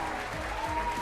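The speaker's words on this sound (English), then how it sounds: "A big round of applause for this little boy." Applause for a young boy receiving a Star Speaker Award, a brief, soft spell of clapping from an audience, somewhat distant and steady.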